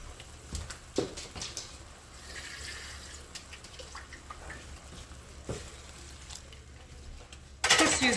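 Water is poured into a pan to rinse out the leftover mushy cooked food and meat, making a soft, uneven splashing and trickling at moderate volume, with a louder, brighter gush of water near the end.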